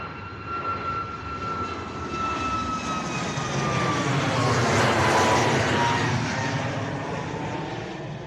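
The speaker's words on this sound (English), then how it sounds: "Wow, gorgeous departure from the 2E-Bone 737." A Boeing 737 jet departing Bristol Airport in a crosswind, its engine roar swelling from moderate to a loud peak midway and then easing as it climbs away, with whining tones sliding downward overhead.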